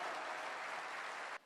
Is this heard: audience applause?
yes